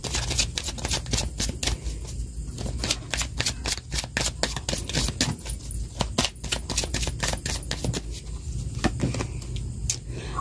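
Oracle cards are shuffled and pulled in a steady run of quick crisp flicks and riffles, close and continuous for about ten seconds with no talking over it.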